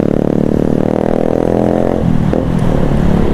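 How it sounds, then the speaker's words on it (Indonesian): Two-stroke motorcycle with a loud aftermarket exhaust, riding at night, buzzing raspy drone held close and loud, then dropping in pitch as it eases off. "Ya enak juga nih yang knalpot brong yang di depan ini, gak tau motor apa nih coy."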